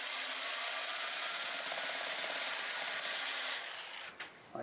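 A 2-inch sanding disc on a power tool whirs steadily against a lathe-turned redwood crotch bowl, a continuous broadband hiss that cuts off near the end, leaving a few faint knocks.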